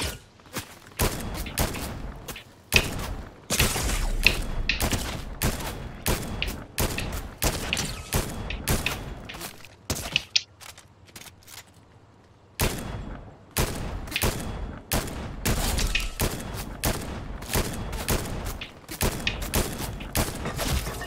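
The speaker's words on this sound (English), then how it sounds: "Oh, someone's shooting me." Gunfire in the video game Fortnite, played at 4K, with dense rapid bursts of shots and booms that stop briefly midway and then resume, loud and continuous with no talking.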